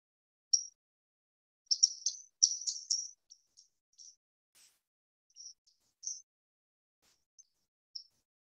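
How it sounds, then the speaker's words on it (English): A swamp sparrow in a marsh gives sharp, high, flat call notes, singly and in quick clusters with gaps between them, isolated against silence. "If you hear this call coming from a marsh, there's a chance here you should look for a swamp sparrow"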